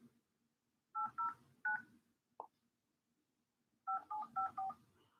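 Phone keypad tones dialed into a cell phone in a truck, two quick bursts of paired beeps separated by a pause, with a short click between, clear and close with no talk.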